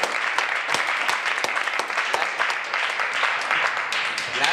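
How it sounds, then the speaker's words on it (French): Dense, continuous audience applause at a French-language gathering, many hands clapping close and loud throughout with no break. "on applaudit même."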